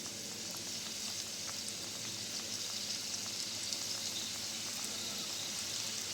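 Raw chicken tender pops frying in oil over a low flame, giving a steady, close sizzle with fine crackling pops throughout and no talk.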